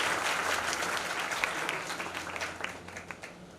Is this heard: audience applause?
yes